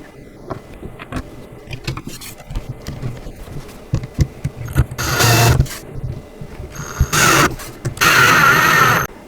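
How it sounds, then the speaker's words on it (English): Screws are driven into the front panel of a Badger Basket doll sofa daybed with trundle, with scattered ticks and scrapes followed by several loud, rough bursts of a close driver biting in. "So I'm just going to tip this up on the side and put all 3 screws into place."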